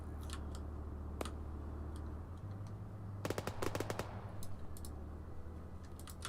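Automatic machine gun fire in Arma 3, sharp bursts of shots cracking out between scattered single reports, with a dense rapid cluster in the middle over a low steady engine-like rumble.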